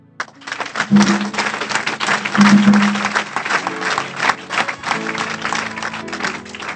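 A church congregation bursts into loud, sustained clapping that swells and holds for several seconds, dense and close, with a few voices calling out beneath it.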